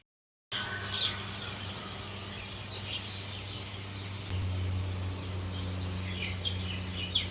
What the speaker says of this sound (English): Literally hearing these birds every morning